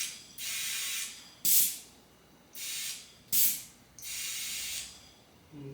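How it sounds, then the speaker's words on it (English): Air hisses in repeated bursts while a BMW K16 motorcycle tire is inflated; there are three longer steady hisses and two sharper, louder spurts, close up with short quiet gaps between them. "And now we're gonna put some air in it."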